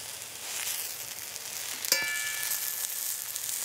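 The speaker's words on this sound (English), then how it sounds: "The aubergine slices are slowly fried in the olive oil until they're evenly browned." Aubergine slices fry slowly in olive oil with a steady, close, bright sizzle and soft crackle, broken once midway by a brief metallic clink.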